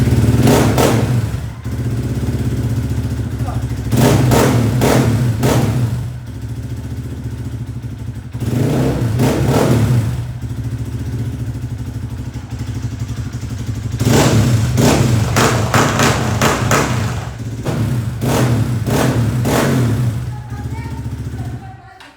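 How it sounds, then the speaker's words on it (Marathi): Hero Xpulse 200 Pro motorcycle with an upgraded loud aftermarket exhaust, revved repeatedly from idle in several short bursts of rising engine roar, close up, with a steady idle rumble between revs. "एक मिनिट तुम्हाला आता आवाज ऐकवतो गाडीचा कसा येतो बघा"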